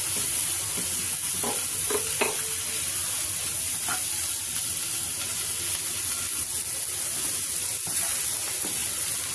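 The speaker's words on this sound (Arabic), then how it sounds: "فانا هنزل بالسجق وافضل اشوح فيه كده لعند ما يستوي معايا وينزل كل الدهون اللي فيه" Sausage fries in a dry pan while being stirred, a constant close sizzle with scattered scraping and tapping of a spoon against the pan, no speech.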